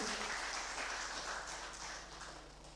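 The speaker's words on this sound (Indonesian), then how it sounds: "Beri tepuk tangan yang meriah Bapak Ibu." Applause from an audience at a closing ceremony for protocol training, a broad, fairly faint wash of clapping that slowly tapers off.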